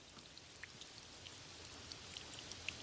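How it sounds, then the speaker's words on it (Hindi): Heavy rain falls at night in a steady, quiet hiss, with scattered small drops pattering now and then. "एक रात बहुत जोर से बारिश होने लगी।"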